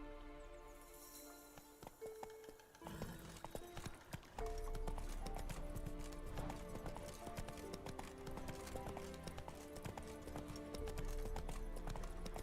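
Roach the horse from The Witcher 3 trots with a steady, fairly close clip-clop of hooves, continuous under loud game music and ambience.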